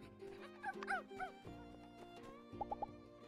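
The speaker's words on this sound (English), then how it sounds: "Bow wow." A dog in the video game My Time at Sandrock gives a quick run of short yips and barks over a background game tune, followed by three more quick yips.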